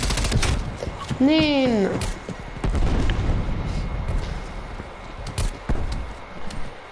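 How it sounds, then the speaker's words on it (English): Dense Call of Duty battle noise rumbles continuously as a Molotov is thrown, with bursts of gunfire and booms, and a voice briefly speaks under the din. "Throwing Molotov."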